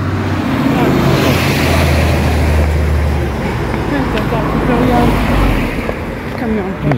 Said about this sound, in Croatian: Kamion.